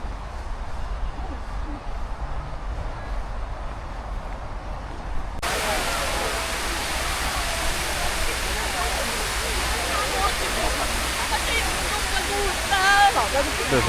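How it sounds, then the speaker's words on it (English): Water cascading all around at a waterfall or fountain in Chengdu, China, a steady dense rush that turns suddenly louder and closer partway through, with talk faintly underneath. "There's water falling down all around them."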